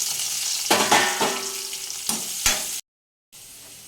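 Chopped onions frying in oil in a pan while being stirred, a bright continuous sizzle punctuated by scraping stir strokes, then a brief cut to silence before the sizzle resumes.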